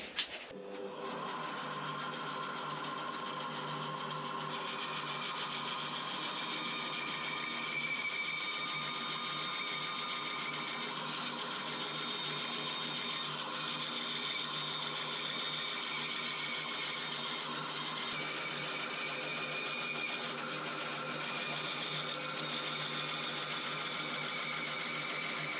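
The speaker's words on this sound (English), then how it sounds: "we're going to move over to the bandsaw and cut the outside out." A bandsaw cuts around the outside of a handmade piece in a steady, fairly quiet whirring hum that runs unbroken for the whole stretch, with faint tonal whines rising and fading and no talking.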